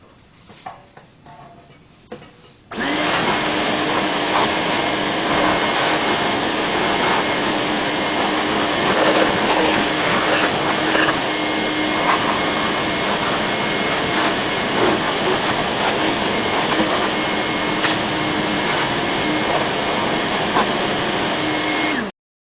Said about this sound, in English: we're going to vacuum it out with the old shop vac